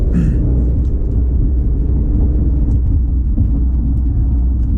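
A 2019 Genesis G90 with the 3.3T engine drones steadily from inside the cabin while driving, a low, even rumble with road noise and no rise or fall in pitch.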